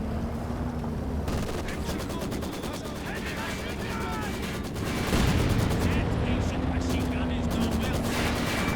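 Maxim machine gun fire in a 2v2 tournament video game match: rapid rattling bursts amid steady battle noise, growing louder and denser after the midpoint.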